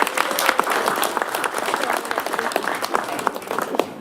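An audience at a commission meeting gives a round of applause, the dense, moderately close clapping continuing evenly for several seconds.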